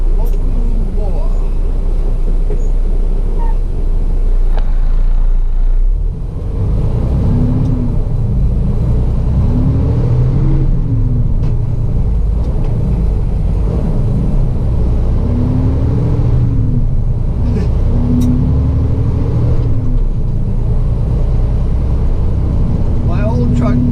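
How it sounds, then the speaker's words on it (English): A truck drives along a street in Hawaii, its engine rumbling loud and steady with rising and falling pitch as it shifts gears quickly, under continuous road noise. "This truck shifts very fast."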